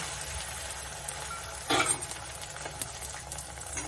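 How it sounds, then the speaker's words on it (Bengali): Egg poured into hot oil in a wok for an omelette, a continuous close sizzle and bubbling with a brief louder crackle burst and light utensil clinks. "তেল কড়াই গায়ে ভালো করে তেলটা ঘুরিয়ে নেব, নিয়ে ডিমটাকে ছেড়ে দেব অমলেট করার জন্য"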